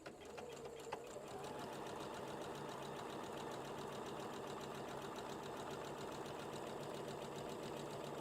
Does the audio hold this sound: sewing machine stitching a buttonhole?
yes